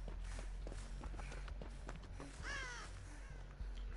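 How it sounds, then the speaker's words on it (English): Crows caw among totems on a map in the video game Dead by Daylight, with a few harsh calls standing out over soft game footsteps and shuffling, with no talk. "A whole bunch of crows too."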